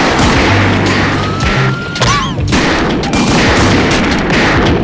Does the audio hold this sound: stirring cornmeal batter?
no